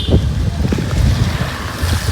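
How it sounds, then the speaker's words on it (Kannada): Wind buffets the microphone in a steady low rumble, with gusty swells that rise and fall throughout and no other clear sounds. "ಛತ್ರಿ ಇವಾಗ ಇಟ್ಕೊಳಕ್ಕಾಗಲ್ಲ ಗಾಳಿ ಬರ್ತಾ ಇದೆ"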